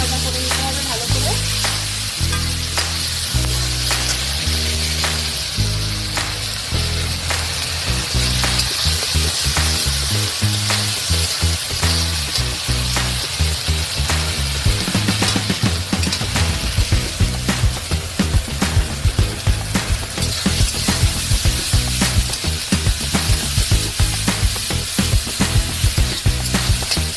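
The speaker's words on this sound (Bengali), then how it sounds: "আদা রসুনের পেস্ট দিলাম 2 চামচ। এবার এটাকে একটু ভাজা ভাজা করে নিতে হবে ভালো করে" Two spoonfuls of ginger garlic paste fry in hot oil for a fish curry, a loud, dense sizzle with rapid repeated clicks and scrapes of stirring, heard alongside background music.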